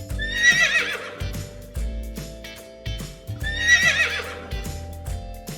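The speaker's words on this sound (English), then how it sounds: "That's a horse." A horse gives two loud, shrill whinnies close by, each a long quavering neigh, with soft hoof clip-clops and low rumbles between them.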